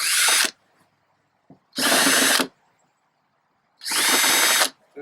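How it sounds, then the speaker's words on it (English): Power drill boring 1/2 inch holes into kayak plastic, heard as three loud bursts of drilling about half a second to a second long, separated by quiet pauses. "You're going to drill 1/2 inch holes where the pilot holes"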